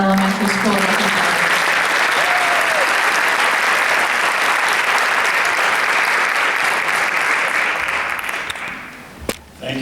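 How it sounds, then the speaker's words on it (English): Sustained, loud applause from an audience at an elementary school community service awards ceremony, a dense wash of clapping that runs steadily for several seconds before tapering off near the end. "one final round of applause, please, for all of our elementary school representatives"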